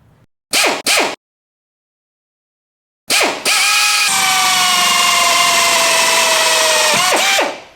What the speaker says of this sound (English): Go down the line and drill them all out.